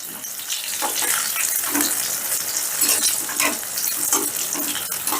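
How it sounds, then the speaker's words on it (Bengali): Eggplant pieces frying in hot oil for a mung dal dish, with a steady close sizzle and periodic scraping stirs as the slices are turned over, no voices. "বেগুনগুলোকে উল্টে পাল্টে হালকা লাল করে ভেজে নিতে হবে।"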